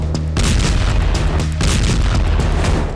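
Iranian missile strikes exploding over Israel, a dense, loud roar of heavy booms and rumbling blasts that surge continuously, one brief lull then another wave, with no voices.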